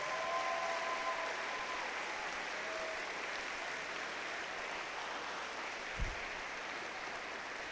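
A large crowd at a robotics competition opening ceremony gives a round of applause for safety advisors, a steady, fairly quiet and distant wash of clapping that lasts several seconds, with one low thump near the end.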